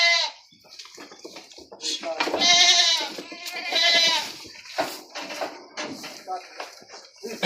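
A goat bleats repeatedly on an Aeta family's vegetable farm, several wavering, nasal calls in bursts, close and fairly loud, with people talking around it.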